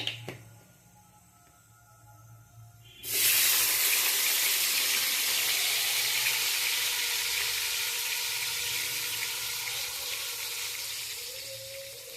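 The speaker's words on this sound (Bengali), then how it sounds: "তেলটা আমার গরম হয়ে গেছে। এখন আমি পেঁয়াজ, টমেটো, কাঁচা লঙ্কাটা দিয়ে দেবো।" Onion, tomato and green chili drop into hot oil in a pan and burst into a loud, steady sizzle that carries on without pause after a short quiet start.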